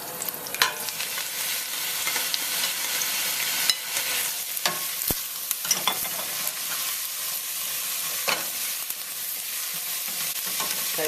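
Onions and curry leaves sautéing in a pan for a slow cooker beef curry: steady close sizzling and frying hiss throughout, broken by occasional scrapes and clicks of stirring, with no talk.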